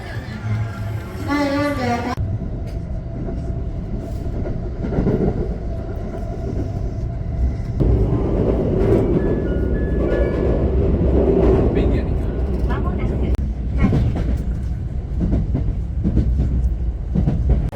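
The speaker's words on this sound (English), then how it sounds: "Here's our train." A train in Japan heading to the airport rumbles past on the rails with a steady roar and faint rhythmic clatter, preceded by a brief whine, without clear talking.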